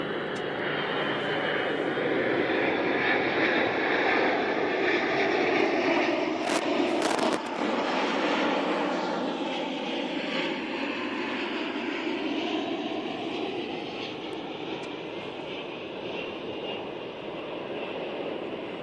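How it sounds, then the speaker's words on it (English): A large aircraft flies overhead as a broad, loud, sustained engine roar that swells and slowly recedes across the whole stretch, with a voice talking briefly over it. "That is one big aircraft."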